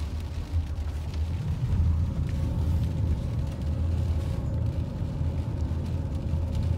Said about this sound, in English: Now it's raining a little harder.